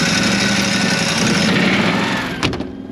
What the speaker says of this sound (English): First order of business, fire up the generator.